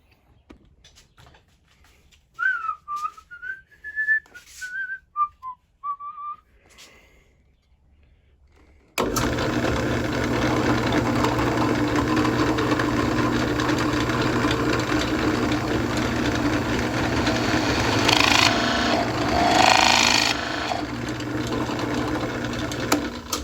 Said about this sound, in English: Oh, also, I want to drill the hole real quick too.